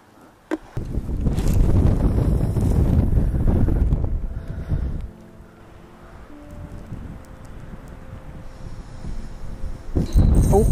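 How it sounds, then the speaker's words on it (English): Strong gusting wind buffets the microphone beside a lake, loud roaring bursts that ease off midway and then pick up again near the end, with no talking. "It's really windy."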